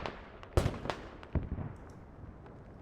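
Artillery barrage in the video game Squad: several sharp, distant explosion thumps burst irregularly over a low rumbling battlefield background, fading into a steady ambient hiss.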